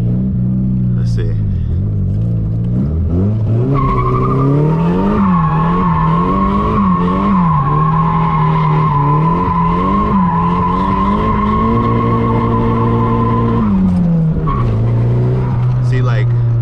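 A drift car's engine roars continuously up close as the e-brake is pulled. A long, loud tire squeal and skid rise over the revving for most of the run, then the engine note drops near the end.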